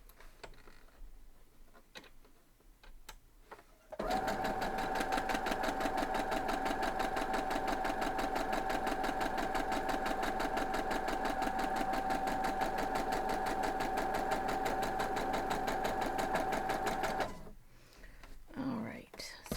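A sewing machine stitches quilt block pieces in one long, steady run of rapid, even ticking, preceded and followed by quiet handling sounds and soft voices.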